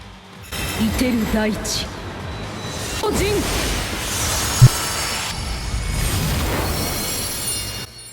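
Soul bomb attack effects from Bleach Brave Souls burst out as whooshing, booming game explosions with a sharp pop midway, layered under a voice talking over the action.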